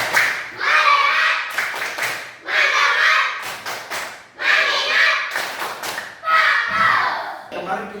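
A class of schoolchildren performs a 'tepuk fokus' clapping routine in a classroom, rhythmic bursts of group claps and chanted voices arriving in short phrases with brief pauses between them.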